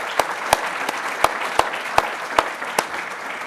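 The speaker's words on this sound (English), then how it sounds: "Let's give another round of applause for all of our 2020 and 2021 ESF Athletic Hall of Fame inductees." Applause from an audience at an athletic hall of fame induction ceremony, a modest, sparse crowd clapping with a few sharp, distinct individual claps standing out over a soft wash of hands.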